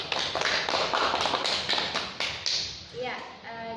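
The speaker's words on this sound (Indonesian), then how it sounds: "Berikan aplaus." Classroom applause for a student group presentation in an Indonesian lesson, a short burst of brisk, close clapping that tapers off at the end.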